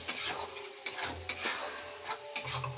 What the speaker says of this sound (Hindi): अब इसको अच्छे से भूनेंगे।